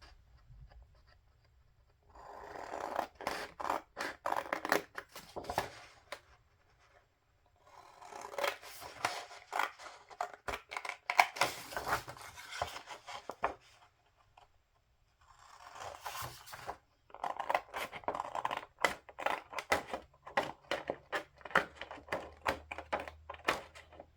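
Scissors snip through paper while cutting pieces for a bullet journal setup, three bursts of quick, crisp close cuts separated by short quiet gaps, with no talking.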